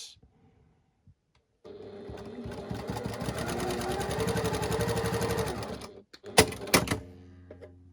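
A sewing machine stitches a quarter-inch quilt seam in one steady, close mechanical whir lasting about four seconds, followed by a few sharp clicks and clunks as it stops.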